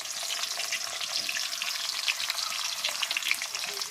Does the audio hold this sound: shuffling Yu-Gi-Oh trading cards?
no